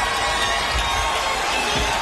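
A wrestling arena crowd at a TNA Knockouts women's match roars steadily and loudly, a dense wash of cheering and shouting as the champion makes her way through the fans.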